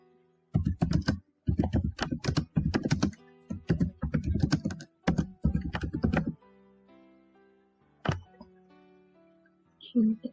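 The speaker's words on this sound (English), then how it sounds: "we'll type something that" Someone types on a computer keyboard during a cyber security practice session, several quick bursts of close key clatter with short pauses between them, then a single tap near the end.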